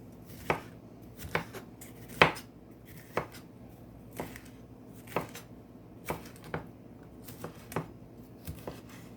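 A very sharp knife cuts through ackee, making crisp, close chopping strokes that land about once a second, roughly a dozen in total, with no talking.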